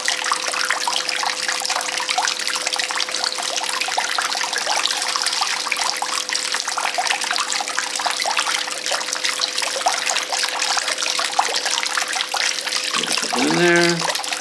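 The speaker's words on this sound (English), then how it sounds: "We'll go ahead and wet the material." Water pours steadily over crushed gold ore material on a leveled silicone-mat concentrating table, a continuous close trickle and splash running unbroken throughout, joined by a faint mechanical hum.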